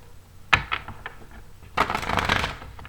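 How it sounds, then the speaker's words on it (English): Tarot cards being shuffled by hand, a sharp riffle followed by a few soft taps, then a longer burst of rustling and flicking cards, close and fairly quiet. "I already did pre-shuffle, but I'll shuffle a few more times just for the camera."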